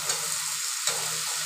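Soybean chunks go into a frying pan with a little water, giving a steady sizzle with scraping stir strokes near the start and again just before the one-second mark.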